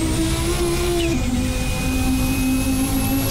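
A turbo whistle from a KRB Audi S1 silhouette race car in the racing game Assetto Corsa, a steady high whine over the engine drone, shifting pitch once partway through.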